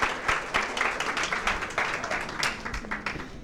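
An audience at a guasha therapy talk gives a burst of dense, fairly loud clapping that holds steady for a few seconds, with a faint voice underneath.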